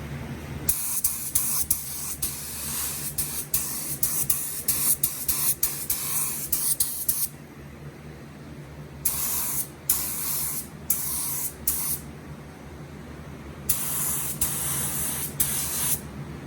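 A spray gun at low pressure, about 10 psi, sprays paint onto a Glock 17 in a series of close hissing bursts, some short and some sustained, with quiet gaps between them.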